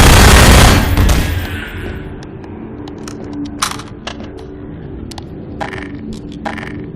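Bursts of SMG fire in Half-Life 2 open loud and dense, then thin into scattered distant shots with brief metallic clinks and rattles over a low ambient hum.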